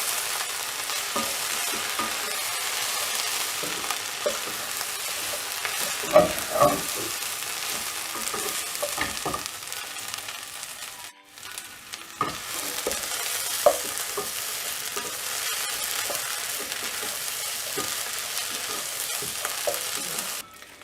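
Mint chutney ingredients with coriander leaves fry in a pan under steady stirring, a continuous sizzle broken by scraping clinks and one short pause midway, with no talk.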